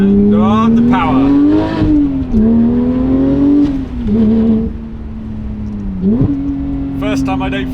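A car fitted with an aftermarket exhaust pulls hard under power, its loud engine note rising steadily through the gears with brief dips at each shift, the drone dominating throughout with no talk over it.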